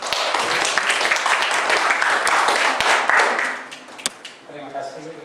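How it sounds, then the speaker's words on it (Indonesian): A lecture audience applauds the speaker, a dense burst of many hands clapping that fades out after about four seconds, with a voice briefly heard as it ends. "kasih aplaus untuk"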